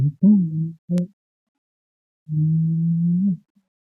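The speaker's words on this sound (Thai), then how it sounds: "อันนี้คือ กบภูเขาที่เราได้ยินเสียงร้อง" Mountain frog calling at night by a forest stream camp, three short, low, tonal croaks in quick succession, then a pause and one longer, steady call, clear against near silence.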